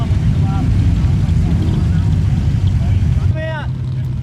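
A Holden Torana SLR 5000 LH rolls by at an outdoor Torana car show, its engine a loud, steady low rumble that eases off toward the end, with a voice speaking over it.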